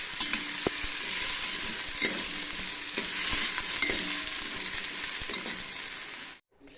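Cabbage, onion, potato and green chillies fry in a pan with a steady broadband sizzle, punctuated by the scrape of stirring, before the sound cuts off abruptly near the end.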